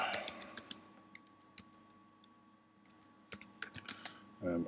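Keys tapped on a computer keyboard while writing a CSS comment, a quick scatter of sharp clicks in short bursts with pauses, close and fairly quiet over a steady faint hum.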